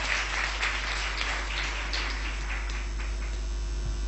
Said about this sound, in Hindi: ताली बजाएंगे खुदा के लिए।